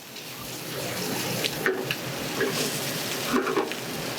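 Lump crab cakes, Chesapeake style, searing in a hot pan. A steady, close sizzle and crackle runs throughout with small pops here and there, and no one speaks.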